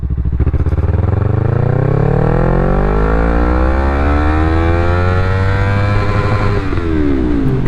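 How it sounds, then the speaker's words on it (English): A Yamaha MT-03 motorcycle pulls away at full throttle in second gear from idle, its engine note climbing steadily and loudly, close up and continuous, without talk. "I'm going to let the bike idle and then hit full throttle"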